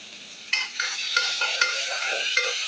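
Ginger garlic paste sautéing in a pan makes a close, bright sizzle, punctuated by quick scraping stirs of a spoon against the metal at irregular intervals.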